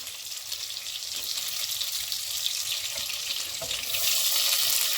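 Butter and olive oil sizzle steadily in a pan as the base of a creamy mushroom sauce, a continuous bright hiss with no talk that grows slightly louder toward the end.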